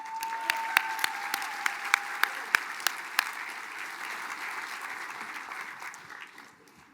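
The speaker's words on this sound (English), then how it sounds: "Another round of applause." A crowd claps warmly at the Mille Lacs Band of Ojibwe State of the Band gathering, with several sharp, distinct claps standing out early before the applause settles into a steady wash that fades near the end.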